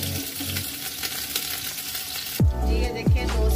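Garlic and chopped green chillies fry in a pan with a steady close sizzle, then a couple of louder stirring or scraping strokes near the end; no one speaks.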